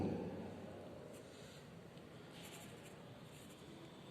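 Pen or marker writing during a quadratic equations math lesson, a soft steady scratching that runs close and quiet through the whole stretch, with no talking.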